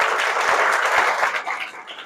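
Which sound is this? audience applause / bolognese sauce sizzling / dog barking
audience applause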